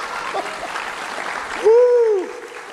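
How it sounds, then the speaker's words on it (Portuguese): Church congregation applauding during a service, a steady broadband clapping wash with a brief tonal voice-like sweep near the end standing out above it. "Dá um aplauso aí a ele"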